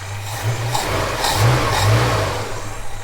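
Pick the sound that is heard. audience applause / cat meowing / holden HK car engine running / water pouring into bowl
holden HK car engine running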